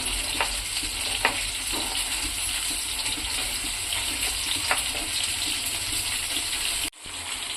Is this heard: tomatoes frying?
yes